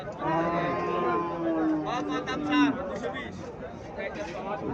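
A Haryana cow moos with a long, drawn-out call at a busy cattle market in Cumilla, close and clear over the chatter of people talking nearby, followed by shorter bellows.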